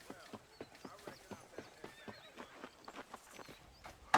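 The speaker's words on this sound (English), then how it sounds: "Trying to run her over with the horse." A horse trots in Red Dead Redemption, its hooves clip-clopping in a steady, even rhythm at moderate distance, with a louder thump right at the end.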